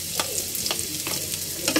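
Onion sautéing in a pan for homemade chicken tinola, a short burst of soft sizzling with a few spatula scrapes and taps, close and fairly quiet.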